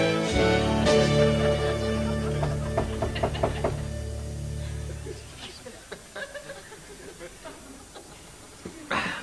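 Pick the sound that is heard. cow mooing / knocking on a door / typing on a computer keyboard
knocking on a door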